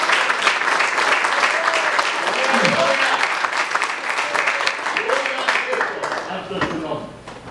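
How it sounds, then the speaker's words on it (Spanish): Loud, sustained applause from a church congregation during a sermon, dense clapping filling the room with brief voices and cheers mixed in, easing off toward the end. "Denle un aplauso fuerte al Señor,"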